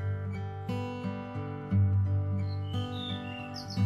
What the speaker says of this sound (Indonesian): ada satu burung kecil yang sering mencuri perhatian dengan suara merdunya